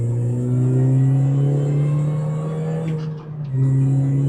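A £1000 R53 Mini accelerates hard around a roundabout, its engine holding a loud, steady droning note from inside the car, with a brief dip in power near the end before it pulls again.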